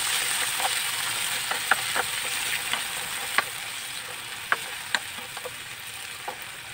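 Tomatoes sauté with ginger in a pan, an even close hiss of frying broken by sharp intermittent ticks and pops as the pieces spatter and shift.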